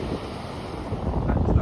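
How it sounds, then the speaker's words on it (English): Ocean waves roll in on a beach with a steep drop-off at the water's edge, a steady close rush of surf mixed with heavy wind buffeting the microphone, with no talking. "Waves are coming in a little bit."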